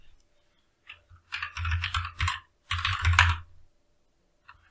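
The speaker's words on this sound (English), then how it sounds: "let's type in sudo apt install Ruby" Fingers typing a terminal command on a computer keyboard, a few isolated clicks and then two dense bursts of rapid keystrokes separated by a short gap, close and clear in a quiet room.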